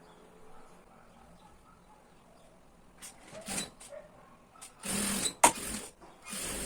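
A home sewing machine stitches a seam on a fabric zippered toiletry pouch in short bursts, a brief run and then a louder, longer run toward the end, over a quiet room.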